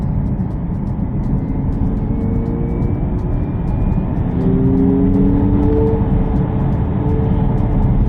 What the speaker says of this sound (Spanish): el sistema de sonido artificial lo tenemos ahora